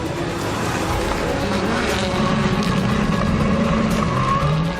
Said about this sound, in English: The orange Subaru heads out.